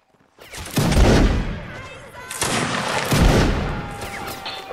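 Musket volleys in the Napoleonic line-battle game Mount & Blade: Napoleonic Wars, with two loud, ragged crackling fusillades a couple of seconds apart, each fading into a rumbling tail.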